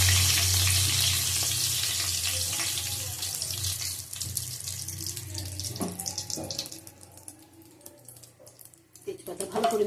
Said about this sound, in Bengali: তেজপাতা ভালো করে ভেজে নেবো।